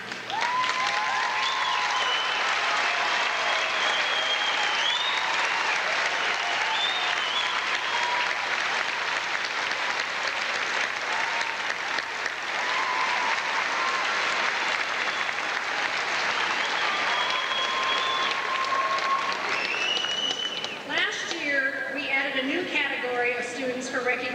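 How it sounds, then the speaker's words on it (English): A large audience at a graduation ceremony claps continuously for a long stretch, a dense, even roar of applause, and a voice begins speaking as it fades. "I welcome your applause for them at this time"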